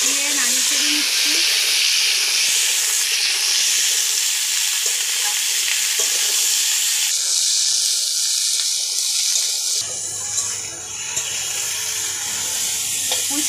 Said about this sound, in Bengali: এখন ওই তেলের মধ্যে আলুটা আর পুঁইশাকের ডাটাটা দিয়ে দিচ্ছি, দিয়ে নাড়িয়ে দিয়ে দিচ্ছি।